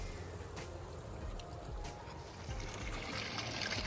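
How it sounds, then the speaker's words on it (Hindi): Glacier-fed water flows constantly near a campsite in Sissu, Lahaul, Himachal, a continuous rushing trickle and burble heard fairly faint and steady, with nobody speaking. "यहाँ पे पानी हमेशा ऐसे चलता ही रहता है, बिकॉज इसका सोर्स जो है ऊपर ग्लेशियर में है"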